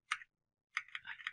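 Keys clack on a CharaChorder Lite chording keyboard. A single quiet click is followed by a short burst of rapid, close clicking, with no talk.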